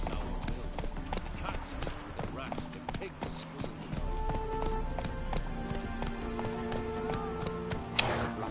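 Horse hooves clip-clopping at a gallop in The Witcher 3 video game, a steady rapid rhythm of hoofbeats with game music and speech over it.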